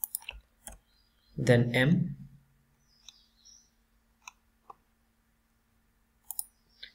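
A computer mouse clicks a few times during computer server troubleshooting: sharp, faint, isolated clicks spaced out across the stretch, with a brief burst of speech early on.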